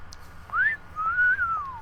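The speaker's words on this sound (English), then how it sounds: "We're gonna do wolf whistling just to see what happens." A single wolf whistle in the video game Super Seducer, a rising then falling two-part whistle heard clearly and alone over a quiet low background.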